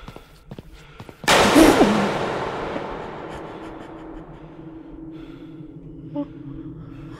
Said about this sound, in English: This is the first game that has these gunshots or whatever it is.